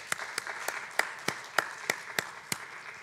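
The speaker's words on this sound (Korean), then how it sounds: "자신 있게 박수 한번 부탁" Sparse, faint applause from a church youth worship congregation, a handful of separate claps spaced about every third of a second over steady crowd noise.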